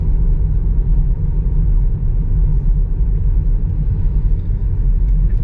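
A Tesla Model 3 drives along a gravel road, heard from inside the cabin as a loud, steady low rumble of tyres and road noise that barely changes, with no one talking.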